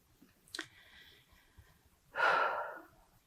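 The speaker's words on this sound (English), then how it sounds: "I do that most easily by just breathing, closing my eyes, feeling the breath moving through my body." A person takes a slow, audible breath in a quiet room during a spiritual mind treatment session; a short sniff early on is followed by a long, airy exhale that rises and fades gradually.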